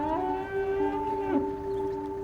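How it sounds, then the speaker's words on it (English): Cattle in a herd on open fields, one long drawn-out moo, loud and close, with no talk over it. "This herd of cattle on Matthias Obenhack's fields"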